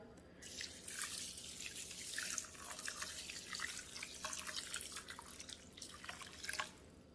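Hot water pours and splashes into a pan in a steady stream, close and clear, tapering off near the end.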